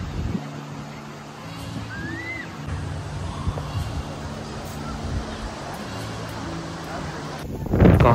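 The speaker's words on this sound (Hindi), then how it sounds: "काफ़ी ज़्यादा हवा चल रही है" Strong wind buffets the microphone on a scenic coastal trail above the lagoons near Sorrento, Italy, a steady rushing roar throughout with a faint bird call and a louder gust at the end; a person speaks briefly.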